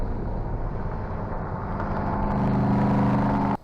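A Subaru WRX engine under hard acceleration while racing, a loud sustained roar climbing in pitch before cutting off abruptly at the end.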